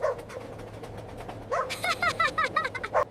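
A dog barks in a quick burst of several sharp, close barks after a quieter stretch of soft whimpering.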